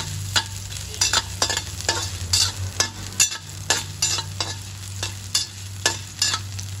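Ginger sautéing in a pan, with brisk regular stirring clatters over a soft sizzle and a low steady hum beneath, no voices.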